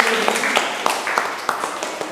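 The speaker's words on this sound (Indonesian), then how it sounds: "Ya, bagus, tepuk tangan." A class claps together, with a steady patter of many hands and sharper individual claps standing out. The sound is moderately loud and runs under a teacher's voice.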